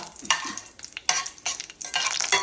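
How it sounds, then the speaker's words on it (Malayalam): Sliced onions soften in an oiled pan for a sweet mango masala as a spoon scrapes and stirs them in quick repeated strokes over a steady close sizzle, with no voices. "സവോളയൊക്കെ ഒരുവിധം വാടി കിട്ടിയിട്ടുണ്ട്"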